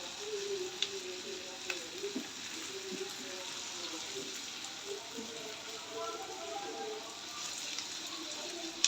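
Potatoes and tomatoes frying in a pan for an Afghani omelette give off a steady, fine sizzle that holds level throughout, with a few small pops and crackles scattered through it.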